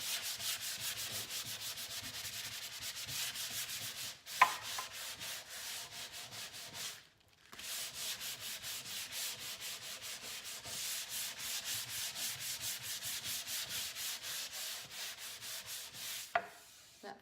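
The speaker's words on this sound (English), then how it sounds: "So I'm just gonna go ahead and take my sandpaper and" Burled wood veneer being sanded lightly with sandpaper, a steady close scratchy rubbing that pauses briefly around the middle and resumes, with one or two small knocks.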